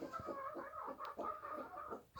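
Hens in a Kazakh home coop cluck in soft, repeated bursts, close by and fairly quiet, with no talk over them.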